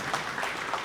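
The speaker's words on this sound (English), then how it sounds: "Doctor deserves a much bigger round of applause" An audience applauds after a guest speaker's talk at a tax event, a steady wash of clapping through the whole short moment.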